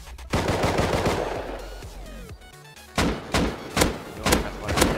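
Rust video game gunfire: sharp shots from a suppressed gun, with a rapid burst followed by several spaced, punchy shots in quick succession, no talking.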